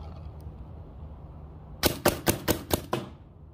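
A paintball marker fired through a 14-inch Freak metal barrel, a quick string of six sharp pops in rapid succession, close and crisp, following a quiet stretch.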